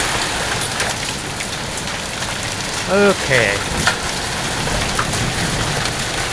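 Intense rain pours down and runs off a roof after a hailstorm, a dense, loud, constant hiss close by, while a person speaks briefly midway through.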